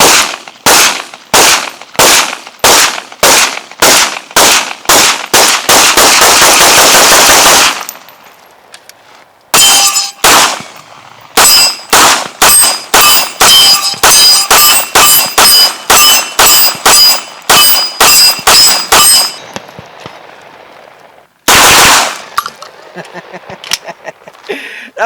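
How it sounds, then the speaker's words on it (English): A Canik TP9 SFx pistol firing at an outdoor range, very loud sharp shots in rapid strings and quick volleys with brief pauses between, some ringing metallic clangs, no talk. "We put about 500 rounds through the CANIK"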